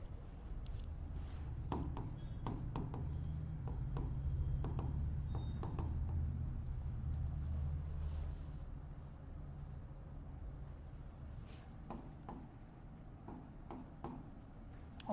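Writing by hand during an accounting lecture, faint scratchy strokes with brief taps and pauses, quiet and close.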